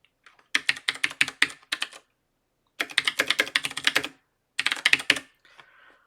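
Keys tapped on a computer keyboard while a password is entered, in three quick bursts of crisp, close clicks separated by short pauses, with a faint softer rustle at the end.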